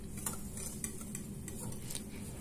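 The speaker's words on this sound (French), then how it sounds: "On va commencer par mettre nos œufs et notre sucre. Et on va les fouetter ensemble." Eggs and sugar whisked together in a bowl, a steady scraping, stirring rhythm with light clinks from the whisk against the bowl, close and continuous with no talk.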